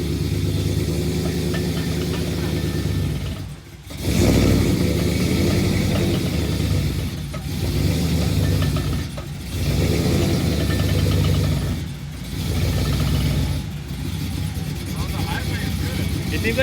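A Dodge Ram Hellcat truck with a swapped HEMI engine drives while towing: a continuous, heavy engine drone from inside the cab that dips briefly every few seconds, with someone talking over it.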